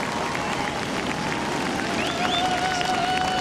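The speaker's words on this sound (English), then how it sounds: "The crowd getting behind Wilco as he's running into the inside." Crowd cheering and applauding at the Bells Beach surf contest final, a steady wash of clapping and cheers from a distance, swelling slightly toward the end.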